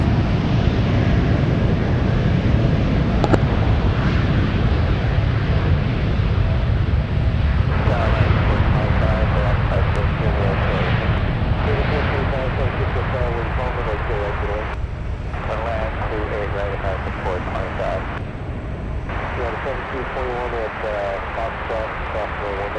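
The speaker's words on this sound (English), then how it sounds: "Dreamliner taking off." A Boeing 787 Dreamliner airliner takes off at San Francisco, producing a broad, sustained jet roar that eases slightly over time, with a voice talking over it.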